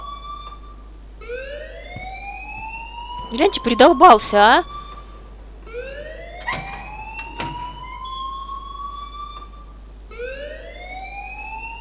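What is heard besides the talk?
alarm ringing in video game Life Is Strange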